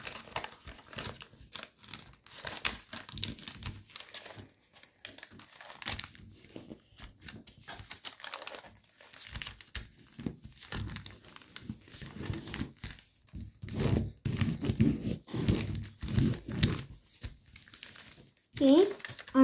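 Paper crinkling and crackling in irregular bursts while an origami helicopter is folded, close by, with speech heard alongside it.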